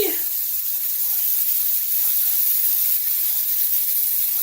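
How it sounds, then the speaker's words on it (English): Chicken pieces hitting an extremely hot pan, giving a loud, continuous searing hiss right up close that holds steady throughout with no pauses. "now that we got our pan extremely hot, it's time to sear the meat"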